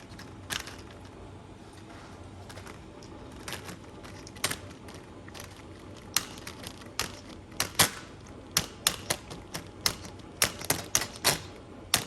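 Tin snips cut durable, flexible metal windshield grill material for a 2022 Indian Pursuit motorcycle, giving sharp close metallic snips at irregular intervals that come faster toward the end over a quiet background.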